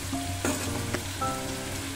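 Masala paste for a duck egg curry sizzles and spits in a pan after mixer-rinse water is added, a close, steady frying crackle with a faint hum and light stirring scrapes.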